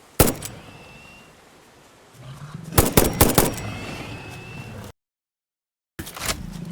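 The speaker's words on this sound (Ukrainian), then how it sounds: "Буквально три постріли і велика хрюшка закінчується." Sharp rifle gunshots from the video game Satisfactory crack in a quick burst of three or four, after an earlier single shot, then a sudden dropout to silence before noise resumes.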